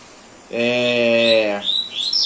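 A caged coleiro (papa-capim) songbird sings nearby: a steady, clear whistled note held for about a second, then quick, higher chirps.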